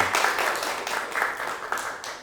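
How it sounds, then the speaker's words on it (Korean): Brief burst of audience applause during a televised lecture, many hands clapping in a dense, fairly loud wash that stays steady throughout without speech over it. "우리 세 분한테 박수 한번 부탁드리겠습니다."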